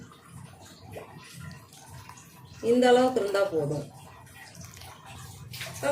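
Water is poured into a simmering chickpea curry in a kitchen pot, a brief splashing gush of about a second under a speaking voice, with quiet cooking sounds around it.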